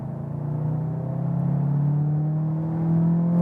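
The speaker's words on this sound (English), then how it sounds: "actually quite nice engine sound" A 2021 VW Arteon Shooting Brake R-Line with a 280 hp engine accelerates from 60 to 100, its engine tone rising steadily as a smooth, near, sustained hum and growl heard from inside the car.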